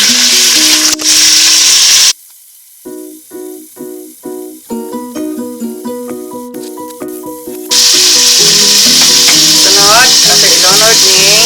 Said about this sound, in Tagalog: 3 cloves of garlic ang ibutang inyong ato sa ni pa-brownon siya o gamay